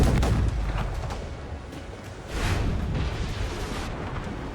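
Ship cannons firing during a naval battle in Assassin's Creed Rogue, deep rolling booms and thunderous blasts layered over continuous rumble, loud and repeated with no clear talk.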